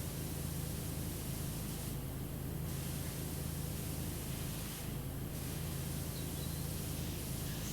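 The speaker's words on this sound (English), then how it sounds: "ASMR and the spraying water at electrics. Though in the game, not in real life." Steady broadband hiss of pressure-washer water spray in PowerWash Simulator, continuous and fairly quiet throughout, with a couple of brief shifts in the spray's texture.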